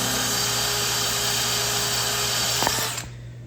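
A power drill whirs loudly and steadily, close by, then winds down and stops near the end, while testing a bit sharpened with an MRCM drill bit sharpener.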